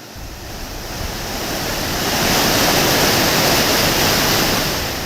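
Rainwater pours out of an overflowing pond after heavy rain in Karur, a steady broad rushing roar that builds slightly and holds, close and loud, with no voices.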